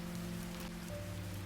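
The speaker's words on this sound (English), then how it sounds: "The rain outside, the wind brushing through the trees." Gentle rain falls outside, a soft, steady hiss of drops that stays quiet and even throughout, with a faint low hum beneath it.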